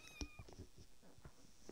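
Minecraft cat meowing in a video game, several short meows spaced through the moment, fairly quiet and close, with no talking over them.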